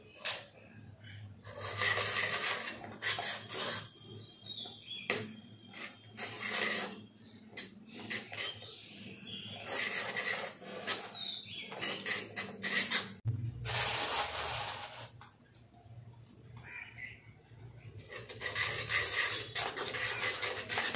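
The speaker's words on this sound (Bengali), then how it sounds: "ভালো করে এটাকে আমি নাড়তে থাকবো যতক্ষণ না এটা খুব ভালো করে গুলে না যায়।" Milk mixture for sweet malai being stirred in a pan over a low flame, giving repeated soft scraping and rubbing strokes in bursts with short pauses between them, close and fairly quiet.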